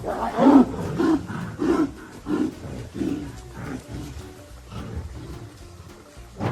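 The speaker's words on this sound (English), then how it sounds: "the jungle echoes with roars as two fierce tigers battle for dominance in an intense showdown" Two tigers fighting, trading loud, close, repeated roars and snarls in rough bursts, some overlapping, with no talk.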